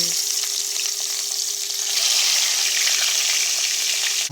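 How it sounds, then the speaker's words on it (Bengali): Rui fish marinated in salt and turmeric sizzles in hot soybean oil, a dense, steady frying hiss close by that swells slightly midway and continues without talk. "মাছ দিয়ে দিলাম, ফ্রাই করছি মাছ"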